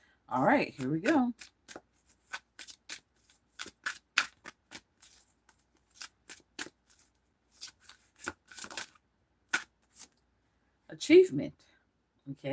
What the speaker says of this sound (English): I gotta shuffle these cards.